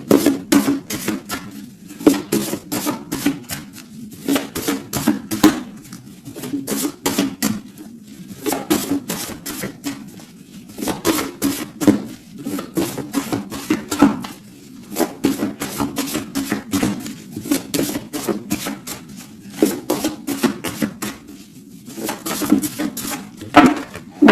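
Tarot cards being shuffled and cut by hand, a long run of repeated crisp riffling bursts in a steady rhythm, close and clear with no talk over it.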